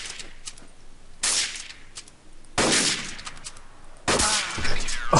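Gunfire in Counter-Strike: Source, three loud sharp bursts spaced about a second apart, each followed by a brief crackling tail, over a quiet background.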